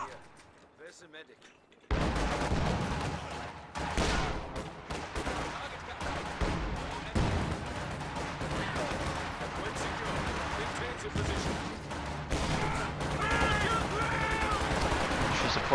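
A support gun and machine guns fire in dense, overlapping bursts in a strategy video game battle, with rattling volleys continuing steadily while a commentator talks over the gunfire.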